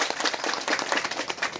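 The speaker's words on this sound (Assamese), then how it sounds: "হাত চাপৰি মাৰি দিয়ক" Audience clapping at a political gathering, a dense steady patter of many hands filling the whole moment at moderate distance, with no pause.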